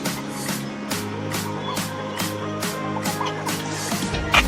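A chicken in a park in Yercaud clucks in a steady series of repeated, evenly spaced calls, close and clear over faint background noise.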